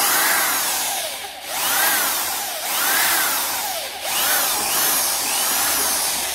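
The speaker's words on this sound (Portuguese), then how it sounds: "Vou tentar furar esse outro aqui" A power drill fitted with a 3 mm bit whines loudly and close, its pitch rising and falling in repeated cycles as it bores a hole, with no talking.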